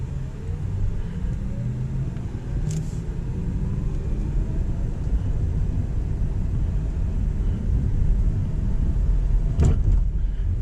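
A Porsche Taycan Turbo electric car cruises at normal pace, a low steady road and motor rumble filling the cabin, with two brief sharp knocks from bumps, and no talk.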